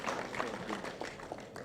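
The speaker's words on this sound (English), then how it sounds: "Can we clap properly for him?" Audience applause at a panel conversation event, a dense steady patter of many hands clapping at moderate distance, with voices mixed in under the sound.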